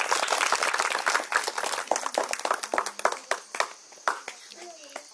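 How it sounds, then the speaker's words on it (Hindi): Schoolchildren at a teacher's farewell function clap in uneven bursts of sharp hand claps that thin out toward the end, with some voices heard alongside. "ताली बजाते हैं बच्चों।"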